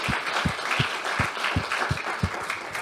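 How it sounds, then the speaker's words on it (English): Light applause from a small group at a graduation ceremony, with evenly spaced claps ringing out at a steady rhythm for a few seconds. "So clap for her."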